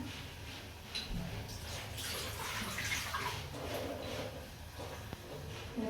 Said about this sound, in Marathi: पाणी टाकले बघा